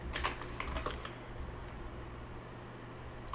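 Rapid keystrokes on a computer keyboard while entering a database query on a Linux system, a quick burst of close clicks in the first second that thins into sparse taps over a steady low hum.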